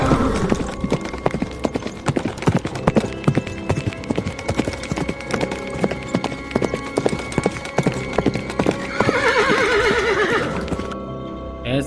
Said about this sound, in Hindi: आज भी यहाँ घोड़े के हिनहनाने और उसके दौड़ने की आवाज़ें आती हैं।